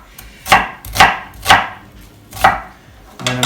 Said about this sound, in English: I'm just going to cut this into small pieces